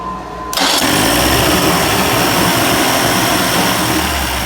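A 1990s 30 hp Evinrude outboard motor catches and roars up to a loud, steady, close running whine after a short quiet start, holding a high buzzing drone without talk.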